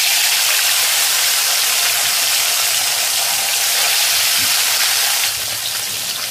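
Bata fish fries in hot oil in a wok, a dense, steady hiss of sizzling that stays loud and close for the whole stretch, easing slightly near the end.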